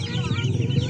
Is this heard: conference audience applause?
no